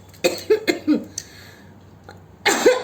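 Several rapid, close coughs in a cluster, then a pause and one more loud cough near the end.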